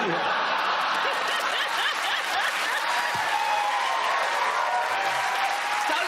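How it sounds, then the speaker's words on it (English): A studio audience at a TV comedy panel show applauds steadily for several seconds, a dense, even wash of clapping with scattered chuckles mixed in. "Don't applaud that."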